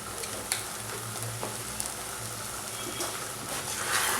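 Sago upma, also called sabudana khichdi, fries in a pan over a slow flame as it is stirred, giving a steady close sizzle with occasional soft scrape and clink accents.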